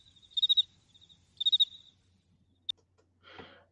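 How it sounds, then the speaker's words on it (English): A cricket chirping sound effect from a soundboard plays two clear bursts of rapid high trills, followed by a sharp click and a brief rustle, otherwise near silence. "We had the crickets in the house."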